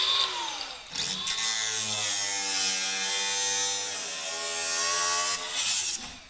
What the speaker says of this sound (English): So you saw how fast that just cut through aluminum